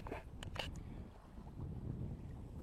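A sailboat moving under sail with its engine switched off, steady wind and water rushing past the hull, with a few brief knocks near the start.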